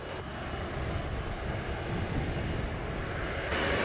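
An airplane at Sangster airport in Montego Bay, Jamaica, gives a steady, broad engine roar that holds at a constant loudness throughout, with a slight brightening near the end.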